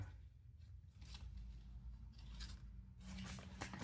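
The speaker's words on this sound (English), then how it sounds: "We'll get scissors." Quiet snips from scissors trimming a house plant during repotting repeat at irregular intervals, cutting through soft rustling with no talking.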